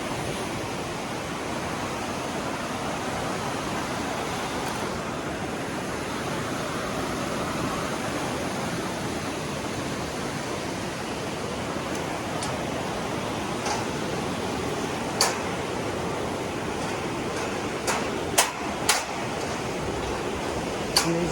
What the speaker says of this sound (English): So you can see the water just flowing underneath us